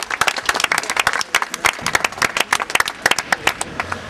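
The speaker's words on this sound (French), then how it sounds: "on peut l'applaudir" At a public consultation on aerial pesticide spraying held in a prefecture hall, a modest audience claps, with distinct individual hand claps in an uneven, sparse-to-steady rhythm, close and clear with no speech over it.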